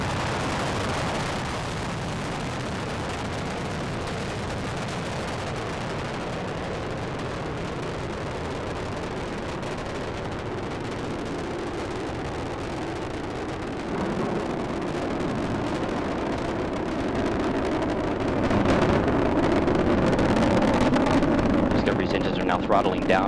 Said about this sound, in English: The shuttle has cleared the tower.